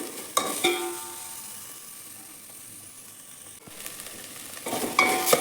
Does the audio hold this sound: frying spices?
yes